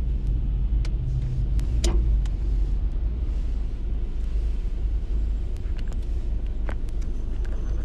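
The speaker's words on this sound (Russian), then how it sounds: "Вот, называется, пропустила машину." A car passes on a nearby road, heard as a loud, steady low rumble of engine and tyres throughout, with no talk.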